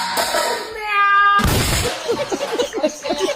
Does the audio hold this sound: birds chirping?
no